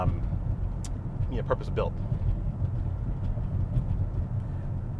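A BMW X5 towing a trailer cruises in seventh gear, its steady low road and engine rumble running close and constant while a voice talks briefly over it.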